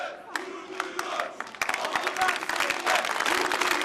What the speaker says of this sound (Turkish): Belediye girişinde alkışlar ve tezahüratlarla karşılanan